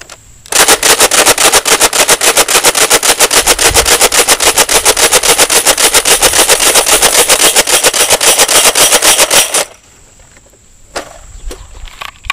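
A Revonix 360 blaster rapid-fires a full 30-round drum in one loud, continuous mechanical volley of evenly spaced sharp cracks lasting about nine seconds, then stops abruptly, leaving a few faint clicks.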